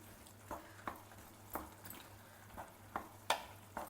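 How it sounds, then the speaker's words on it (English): A spoon stirs powdered masala into boiling tur dal, giving soft, irregular clinks and scrapes against the pot over a faint background hiss. "This is our powdered masala. Just sprinkle it in it and stir it very well."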